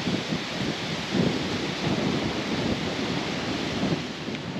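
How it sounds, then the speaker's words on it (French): Steady rain begins outdoors along a roadside route at night, a dense even wash with low rumbling swells that may be distant thunder, continuous and fairly loud throughout. "Ça y est, ben voilà, il pleut,"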